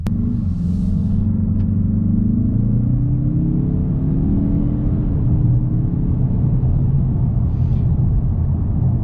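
A 2021 Mazda3 Turbo engine rumbling loud and close, its pitch rising steadily as it revs up under acceleration toward 5,000 RPM.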